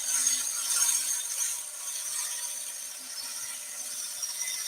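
A 3/8 inch (10 mm) bowl gouge takes a fine, light cut on a turning wooden bowl. The result is a steady, soft hissing shave with a faint low hum running underneath, and no talking.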